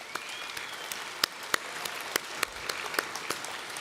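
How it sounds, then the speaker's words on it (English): Sparse, scattered clapping from a small crowd at the Finke Desert Race 2022 presentation, individual claps popping out irregularly over a quiet, airy background. "So a big round of applause for those people."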